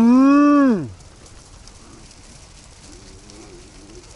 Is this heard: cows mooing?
yes